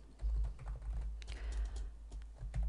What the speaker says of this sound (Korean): 학과 정보 조회라고 입력하겠습니다.